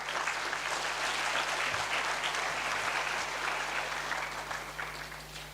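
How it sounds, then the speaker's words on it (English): Crowd applause for the host at a congress opening ceremony in a large hall, dense sustained clapping that slowly tapers toward the end. "that hand clap was for the host"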